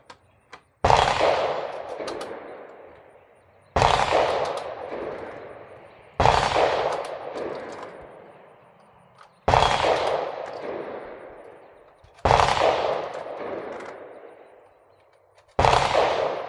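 A VR-80 semi-automatic shotgun fires very light 3-gun loads: six loud, sharp shots spaced about three seconds apart, each with a long echoing tail that fades before the next.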